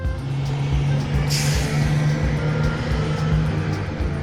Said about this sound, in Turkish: Bu bir otobüs.